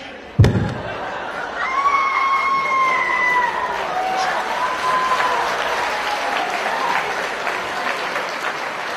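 Audience applause fills a cosplay skit at an anime convention, starting with a sharp thump and then a sustained, dense wash of clapping mixed with crowd noise, a voice speaking briefly over it.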